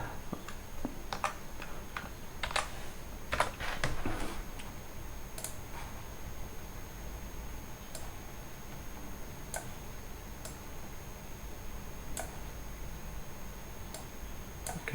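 A computer keyboard is typed on while a Python program is written, giving a cluster of quick, faint clicks early on and then sparse, single keystrokes spaced out over the rest of the time, close and quiet.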